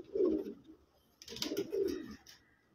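Pigeons on a rooftop in Faisalabad coo softly and close by: one low throaty coo, a pause, then two more rolling coos with light rustling, no talk.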